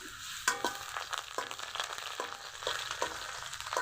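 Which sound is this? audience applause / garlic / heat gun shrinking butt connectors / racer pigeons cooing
garlic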